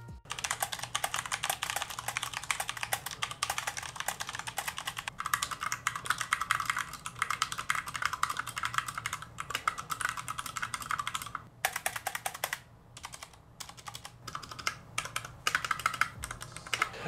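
Brisk typing on a new, heavy mechanical keyboard with newer switches gives a quiet, smooth, steady patter of keystrokes with brief pauses, close and alone.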